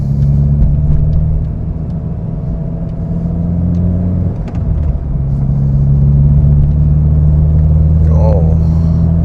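A 16-year-old Honda car driven on a twisty public street, with a steady low engine rumble and road noise throughout, plus a brief bump near the middle. A voice is faintly heard near the end.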